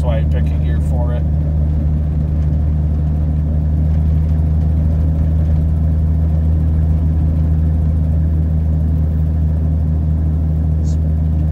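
A 1982 Ford F150 pickup drives slowly over a slick, slushy road, its engine a steady, close, low drone throughout, with someone talking over it.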